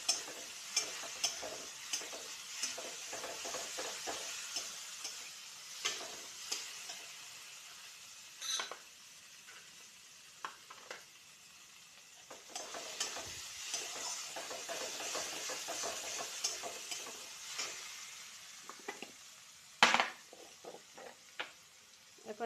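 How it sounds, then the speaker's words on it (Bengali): Bengali fish-curry spice paste sautéing in oil: a soft continuous sizzle with scattered crackles and pops, plus occasional stirring scrapes, all fairly quiet and close, no talking. "দেখুন মশলার থেকে তেল ছেড়ে দিচ্ছে, আরেকটু হবে কষানো, আরেকটু কষিয়ে নেব"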